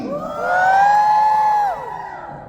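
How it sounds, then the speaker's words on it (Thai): A fan meeting audience for Nichkhun in Thailand lets out a loud collective high-pitched scream that rises and holds for over a second, then fades into crowd noise. "ถ้าจะขอเสียงปรบมือคงจะยากขอเป็นเสียงกรี๊ดแทนได้ไหมคะ"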